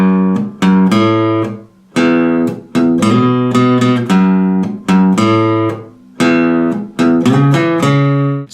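An electric guitar plays a riff, with loud, clear, repeated picked notes and short chord stabs in a steady rhythm, alone and with no talking.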